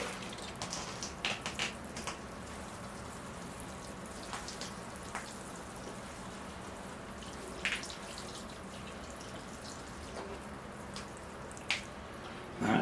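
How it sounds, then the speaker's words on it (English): Water trickles onto a small-leaf Ficus benjamina bonsai tree in a steady, quiet pour, with soft splashes and scattered drips rising now and then over a low background hiss. "I will give the tree a water now. All right, here I go with the water."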